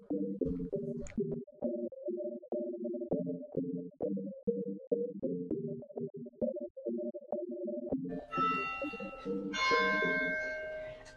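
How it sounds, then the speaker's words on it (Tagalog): A church bell rings at Our Lady of Lourdes Basilica, a steady series of rhythmic metallic strikes with ringing overtones, loud and clear, before brighter sustained clanging tones join near the end. "ganda ng tunog ng bell"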